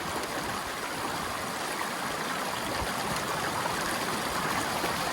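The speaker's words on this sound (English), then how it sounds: "Now we barely have enough water flow here because we don't have a whole lot of current" A slow river current, a weak flow near the bank, produces a steady, even rushing and trickling wash that continues unbroken at moderate volume, with no voices.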